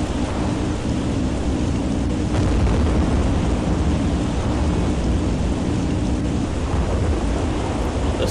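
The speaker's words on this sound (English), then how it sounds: "The storm has arrived." A steady thunderstorm with heavy rain fills a level of the video game SiN, a dense continuous roar with low rumbling thunder rolling underneath throughout, loud and unbroken with no voices.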